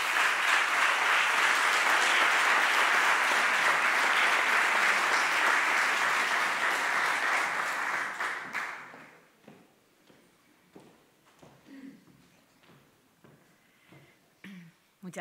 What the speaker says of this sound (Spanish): Un aplauso, por favor, Cristina.